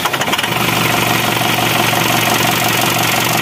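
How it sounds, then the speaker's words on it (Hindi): A Tata 207 DI diesel engine with a head gasket problem cranks briefly and catches, then settles into a steady, loud, close idle that runs to the end with no talk over it. "एक सेल्फ में गाड़ी स्टार्ट हो चुकी है"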